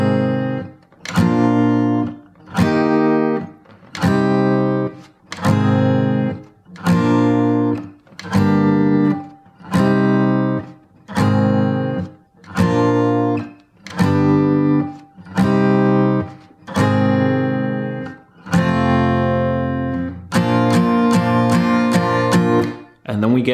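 An acoustic guitar fitted with a capo strums the pre-chorus of a song, playing a steady series of chords, each one struck and left to ring, with a brighter run of quick strums near the end.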